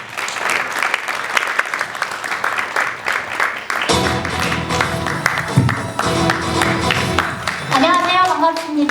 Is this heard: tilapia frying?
no